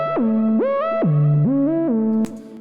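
A lead patch on the Audio Helix synth, BTPM Whiner preset, plays a MIDI line, a buzzy harmonic tone with swooping pitch glides between held notes, loud and alone, ending on a short click.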